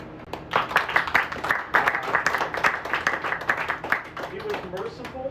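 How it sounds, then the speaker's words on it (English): An audience at a poetry reading in a bookshop claps steadily and fairly close for several seconds, the applause dense and continuous before it starts to thin toward the end. "let's give another round of applause for Jonathan."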